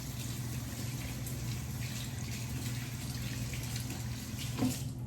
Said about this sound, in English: So I'm just rinsing my hands right now.